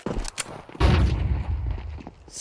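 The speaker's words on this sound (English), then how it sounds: "Flashbang!" Flashbang grenade detonating in a video game: a sharp, loud bang with a broad rushing blast that lingers and slowly fades, preceded by a couple of short clicks.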